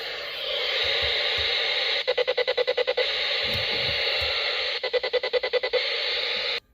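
A radio scanner tuned to 433.92 MHz hisses with steady static, then twice breaks into a rapid pulsed burst of evenly spaced chirps as a garage door remote transmits. Each burst lasts about a second, loud and close, with no talk.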